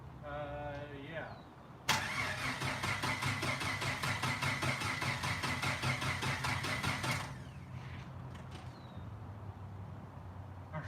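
Rebuilt 4.0 engine cranking on its first start attempt, a loud rapid rhythmic starter churn lasting about five seconds without catching, with voices talking before and after.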